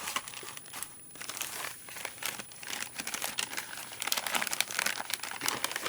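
Packing paper from a box of eBay paper crumpled and crinkled by hand, a dense, continuous rustle close to the microphone, growing louder toward the end, with no speech.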